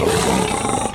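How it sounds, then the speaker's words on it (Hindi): A lion's low, rumbling growl-roar, loud and close, filling the whole second as one continuous rough snarl with no voices. "शेर की आवाज नीचे स्वर है"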